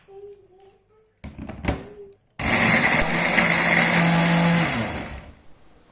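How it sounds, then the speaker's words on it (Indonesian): An electric blender grinds spice paste for chicken gulai, starting with a short burst and then a loud, steady whirring run of several seconds that winds down, with quiet talk before it. "Kita akan haluskan dengan cara di blender."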